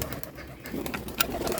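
A Bombay pigeon coos in a fenced loft of separated pens, a short, soft, close murmur repeating over brief background rustle.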